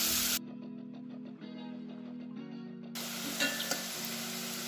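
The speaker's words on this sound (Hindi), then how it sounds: "इनको काटा है, इसको डाल देंगे। इसको गोल्डन ब्राउन होने तक सेकेंगे।" Chopped onions fry with cumin seeds in a pan for Punjabi lobia masala, a close, steady sizzle that cuts out briefly and then returns stronger with a few small crackles.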